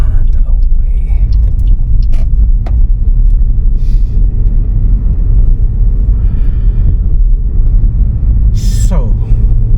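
A car pulls away in first gear on a road, its engine a steady low rumble that stays loud and close throughout, with a brief higher whine near the end.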